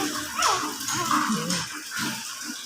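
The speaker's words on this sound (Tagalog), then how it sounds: "Oh, barking." Tiny chocolate-brown puppies give a few thin, high yips and whimpering barks, close by, scattered across a couple of seconds with soft background noise.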